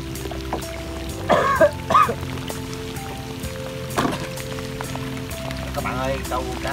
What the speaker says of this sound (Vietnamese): Mưa quá trời mưa.